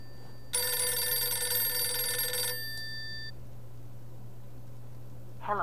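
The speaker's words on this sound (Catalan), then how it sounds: "I un telèfon que sona." A telephone rings in the horror video game Visage, a single bright electronic trill lasting about two seconds that fades into a dark, quiet room tone, with a faint rustle at the end.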